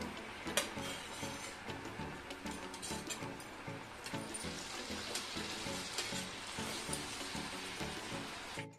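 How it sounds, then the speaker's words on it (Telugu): Sakinalu, rings of rice-flour dough, deep-frying in hot oil with a continuous dense crackling sizzle, close and even, with light rhythmic taps of a utensil against the pan. "ఈ విధంగా జాగ్రత్తగా ఆయిల్లో వేసుకొని వేయించుకోవాలి సకినాలని"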